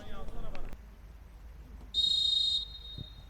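A single sharp, high-pitched referee's whistle blast lasting under a second, starting extra time at a Turkish Cup football match, heard after a burst of commentary, with faint crowd noise behind it.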